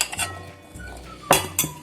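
Chickpeas tipped into a metal bowl for papri chana chaat, several close clinks and clattering knocks against the dish in short bursts, no talk.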